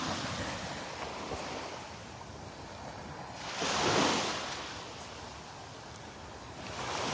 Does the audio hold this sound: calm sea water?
yes